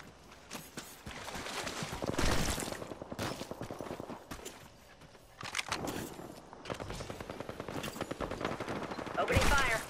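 Rapid automatic gunfire in the battle royale game Apex Legends, bursts of shots repeating across the clip with brief lulls, loud and close, with some voices faintly in the mix.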